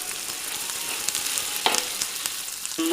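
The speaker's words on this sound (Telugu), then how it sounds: "ఫిష్ని ఫ్రై చేసుకోవాలి ఆయిల్లో." Fish frying in hot oil, a dense steady sizzle with a few faint crackles and a brief scrape near the end, no speech.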